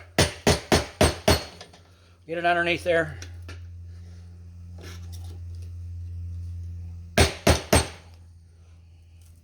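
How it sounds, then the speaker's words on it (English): Rapid metallic hammer taps on a corroded car battery terminal in a quick burst, a short spoken remark, then three more sharp taps, all close and crisp. "so let's get a hammer. Again, a hammer, tap on it."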